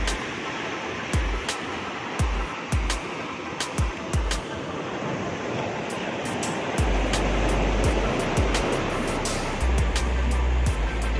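Surf washing onto the beach shore at Ujung Karang in Meulaboh, Aceh, on an evening with people fishing nearby; a steady, close rush of breaking water, with low wind rumbles that grow louder toward the end.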